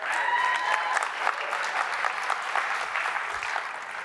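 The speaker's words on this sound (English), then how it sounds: "Now you want to take back the applause" Audience applause during a talk by psychologist Daniel Gilbert, a dense, steady wash of many hands clapping at even loudness throughout, with no voices over it.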